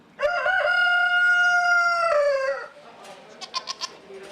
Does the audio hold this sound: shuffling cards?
no